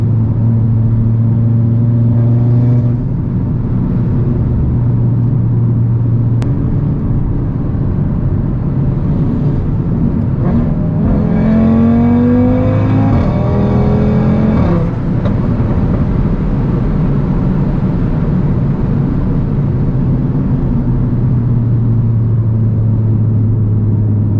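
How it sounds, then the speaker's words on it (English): Audi RS3 engine heard from inside while driving, a loud, steady five-cylinder drone that rises in pitch as it accelerates and then settles back to a constant cruising hum. "This motor sounds so good."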